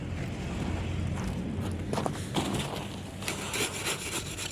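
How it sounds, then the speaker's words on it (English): Screwdriver scraping and pushing sand under car tires, a close, quiet, uneven gritty rubbing with a few sharper scrapes and shuffles, alone without talk. "use the screwdriver to push it right under the tires to see what happens then"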